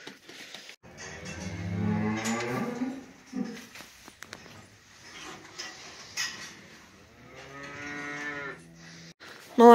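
Cattle on a farm moo loudly and repeatedly at afternoon chore time, long drawn-out calls near and far, with a few faint clinks of metal between them.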